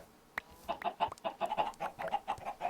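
Chickens clucking in the Minecraft modpack Technicality 3: a steady run of close, rhythmic clucks and soft bird chatter from several fowl, with no talk.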